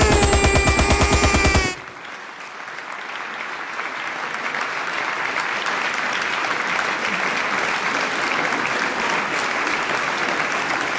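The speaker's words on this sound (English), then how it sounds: "how long is this applause sound effect?" A long applause sound effect plays on its own after a short burst of singing, a dense, steady wash of clapping that swells slightly and holds loud and even for about nine seconds.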